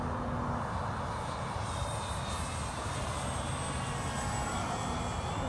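A model airplane drones steadily on its landing approach, a continuous engine hum of even loudness with no pauses and no voices.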